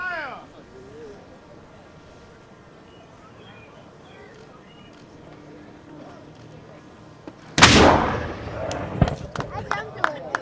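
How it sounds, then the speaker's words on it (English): A ceremonial cannon fires once at a Fourth of July celebration, a sudden loud boom that cuts through quiet crowd murmur and talk, followed by scattered crackles and pops as the noise dies away. "select board firing our cannon"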